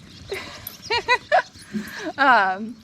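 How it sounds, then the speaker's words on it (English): Several dogs yip and whimper in short bursts as they race around a garden after muddying themselves in a ditch, with someone talking over and between the high excited cries. "The dogs are zooming."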